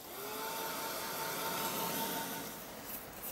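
A handheld heat dryer blows steadily over a bubble-wrap layer on an art journal page, a close, continuous whirring rush that swells slightly and fades near the end.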